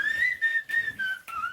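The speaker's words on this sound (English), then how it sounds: "I'm not a very good singer, so I prefer to use my whistle." A person whistles a brief, steady melodic line with slight wavering pitch, close and clear without any talking.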